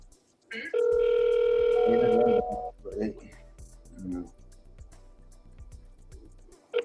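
A telephone call rings with a steady electronic tone for about two seconds before being forwarded to voicemail, followed by people talking close by.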